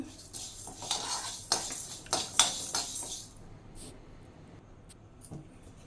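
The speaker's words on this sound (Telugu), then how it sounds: "శనగపప్పు ఫ్రై అవుతుంది కదండి. ఇప్పుడు ఇక్కడ ధనియాలు కూడా వేస్తాను." A spoon clinks and scrapes against a pan while chana dal and coriander seeds are stirred as they fry, with a few sharp metallic taps before the stirring fades into quiet.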